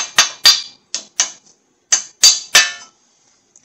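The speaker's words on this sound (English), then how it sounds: "That's the ticket, you just use a hammer." Hammer blows strike metal while a wheel bearing is replaced on a 2011 Ford Fusion. There are about eight sharp, ringing impacts in an irregular rhythm, close and loud, with brief silences between them.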